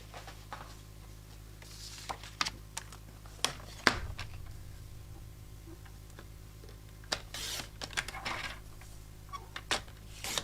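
Paper card frame trimmed down during a Stampin' Up! cardmaking session, heard as faint scattered ticks and light snips with a few sharper clicks, near and alone.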